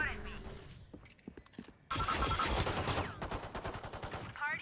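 Rapid bursts of automatic gunfire from a weapon in a video game, loud and dense, broken into short volleys with a louder sustained stretch midway, while a person talks over the shooting.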